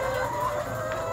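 Laying hens cluck in a coop, with soft overlapping clucks and faint chatter from the flock forming a steady, close murmur.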